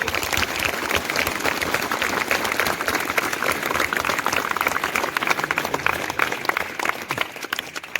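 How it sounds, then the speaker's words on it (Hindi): At a parent-teacher meeting at an Eklavya school, students clap loudly for their parents, a thick, continuous roar of many hands that holds evenly for about eight seconds. "अपने पालकों के लिए एक बार जोर से ताली बजाइए"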